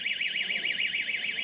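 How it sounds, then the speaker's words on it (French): An electronic alarm sounding continuously, a rapidly warbling high-pitched siren tone that wavers up and down in a steady cycle over a low background hum. "Une alarme s'est déclenchée"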